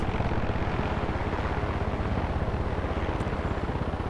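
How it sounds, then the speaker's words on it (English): Helicopter flying in Far Cry 6, a loud steady rotor chop with rapid regular thumping throughout, no talking. "Well, it's a good thing I have a helicopter."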